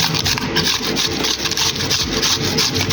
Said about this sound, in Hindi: अब सेकंड स्टेप में हम कद्दूकश कर लेंगे प्याज को और वो हम डालेंगे।